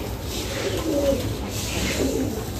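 Low cooing from pigeons rises and falls in soft, rolling phrases close by, two brief swells of burbling over a faint hum, with no speech.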